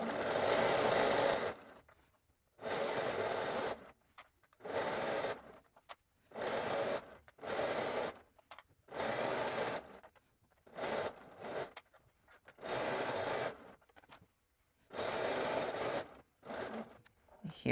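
A sewing machine runs a narrow zigzag stitch around the neckline of a dress, whirring in about a dozen separate bursts of a second or so each, with short quiet pauses between runs as the fabric is turned.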